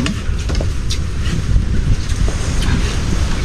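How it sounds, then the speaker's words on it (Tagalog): Wind rushing across an outdoor microphone, a loud, low buffeting roar that rises and falls continuously with faint passing sounds, no speech. "Yan na ang hangin."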